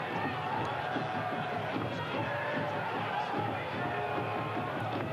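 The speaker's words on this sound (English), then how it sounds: "Another huge crowd on hand here at Keyworth Stadium," Large soccer crowd filling Keyworth Stadium for a Detroit City FC match against San Antonio FC, a steady distant roar of murmuring voices and chatter that holds level throughout without any sharp peaks of cheering.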